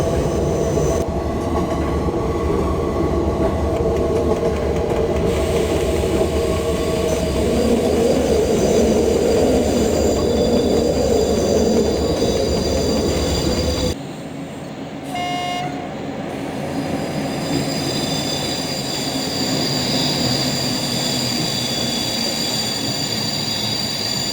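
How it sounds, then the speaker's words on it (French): A train on the Alps line between Grenoble and Veynes, passing mountains, viaducts and tunnels, rumbles steadily and loudly with wheel noise and faint squeals, the tone changing abruptly partway through. "notre train longera les montagnes, les viaducs ainsi que les tunnels"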